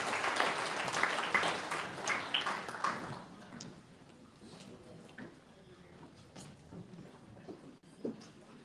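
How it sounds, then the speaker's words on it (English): A small crowd applauding Senate primary candidates at a Republican debate and town hall, a few seconds of clapping that fades to scattered claps and room murmur. "And a quick round of applause."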